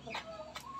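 Two short bursts of chicken clucking close by, with a faint background murmur between them.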